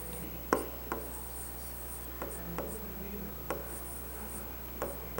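Pen or pencil writing on paper, soft scratchy strokes with a few sharper taps, quiet and close, in a short run with no talking.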